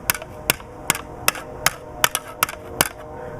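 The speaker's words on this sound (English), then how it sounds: "this hammer will help aid in the bending process, but it will also give it some pretty cool character marks" A hammer strikes an armor piece to bend it into shape, giving about nine sharp, evenly spaced metallic blows at close range with no voices.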